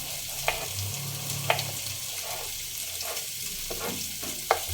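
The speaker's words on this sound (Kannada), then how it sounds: "ಫ್ರೈ ಮಾಡೋಕ್ಕೆ ಇಟ್ಟಿದ್ದೀನಿ, ಬ್ರೌನಿಷ್ ಆಗೋಕ್ಕೆ." Paneer fries in a pan with a steady, soft sizzle, broken by a few sharp crackles and spatters, with no talk.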